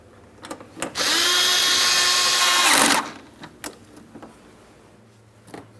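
A power drill on a 2008-2016 Chrysler Town & Country snugs up front bumper bracket mounting bolts, one loud steady whir of about two seconds with faint clicks and handling noise before and after.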